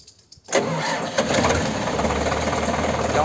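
Preet 6049 tractor engine turning over and catching, then settling into a steady, close diesel rumble after a brief quiet start.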